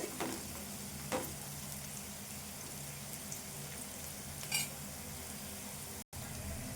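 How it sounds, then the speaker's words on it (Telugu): A steady, quiet sizzle of onion, ginger and garlic paste frying in a pan, with a few soft stirring scrapes and taps. "ఇప్పుడు ఈ ఉల్లిపాయ అల్లం వెల్లుల్లి పేస్టు దీన్ని ఇట్లా వేపుకోవాలి"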